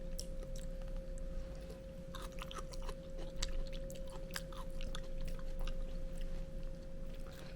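Crunchy homemade pickled green plums, aged three years, chewed steadily and close up, with crisp repeated bites over a constant low background hum and no talking.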